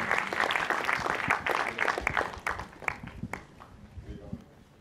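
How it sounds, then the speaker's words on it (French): An audience at a film awards ceremony applauds a winner with a burst of clapping that starts busy and loud, then thins to scattered claps and dies away, with some voices mixed in. "Applaudissez-le, il le mérite vraiment."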